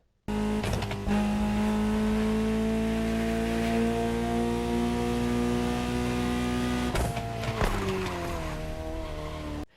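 A Ferrari supercar in the Motorfest racing game drives around a racetrack, its engine droning loudly and continuously with shifting revs, brief tire squeals and clattering near the end.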